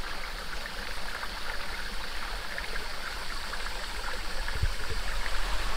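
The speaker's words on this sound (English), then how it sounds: "this is the river that we followed on the way down" A river flows steadily through Sabah forest, a continuous broadband rush of running water at moderate level, slightly building toward the end with no voices.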